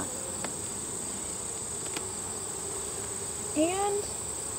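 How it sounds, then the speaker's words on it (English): Honey bees buzz faintly and steadily around an open hive during an inspection, a thin constant hum with a brief louder whine passing close near the end. "There are a couple angry bees up front."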